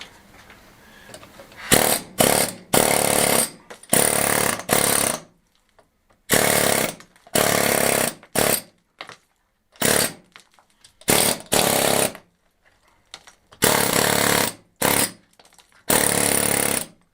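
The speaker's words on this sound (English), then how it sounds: "I've just broken another spring on the air hammer." Loud pneumatic air hammer chiseling in repeated rapid bursts, each a second or so long, separated by brief pauses, close by, at a Spanish farmhouse restoration.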